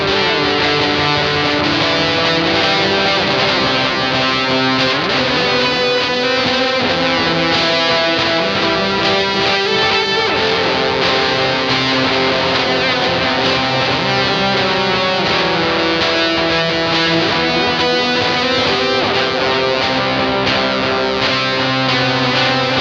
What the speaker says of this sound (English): keep blowing it out with this fuzz, but like with this tape delay setting, it kind of creates like almost like a reverb